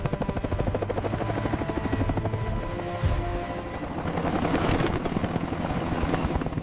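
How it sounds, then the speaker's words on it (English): Helicopter rotors thump rapidly and steadily, loud and close, the chopping sound building slightly toward the end. "The helicopters approached under cover of darkness."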